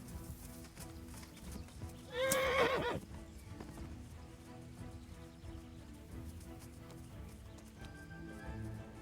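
A single horse whinny from the video game Kingdom Come rings out briefly, loud and shrill, over a low ambient background with faint hoofbeat-like thuds.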